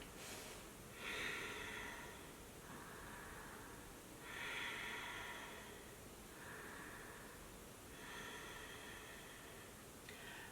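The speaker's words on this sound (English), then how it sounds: "as I inhale you'll hear me making that aspirant sound" Ujjayi yoga breathing heard as slow, soft, breathy whispers from the throat, with three long, even inhale and exhale cycles that sound faint against a steady hiss.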